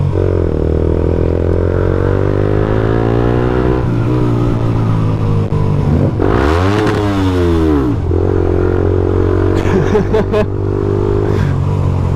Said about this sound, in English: My exhaust popped then, but he revved me, so why not rev him back?